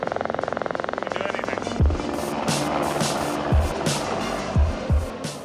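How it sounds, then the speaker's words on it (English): Helicopter flying over a ridge: a fast rhythmic rotor chop for the first couple of seconds, then blurred under other thumps and noises. "while the heli's coming over the ridge"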